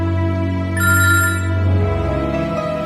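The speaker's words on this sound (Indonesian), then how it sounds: "Aku angkat telepon dulu ya." A telephone rings loudly and close by, a sustained electronic ringtone with a brighter high layer joining partway through, heard alone without speech.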